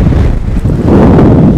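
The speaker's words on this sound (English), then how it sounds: "It's extremely windy." Strong wind gusting across the exposed Honister Pass in the mountains, roaring and buffeting the microphone steadily throughout, loud and close with no voices.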